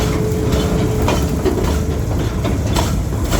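Steady clickety-clack and low rumble of a park train riding the Capital Railway at Six Flags America, loud and continuous from on board with faint periodic wheel clicks throughout.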